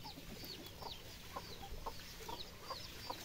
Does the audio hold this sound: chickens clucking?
yes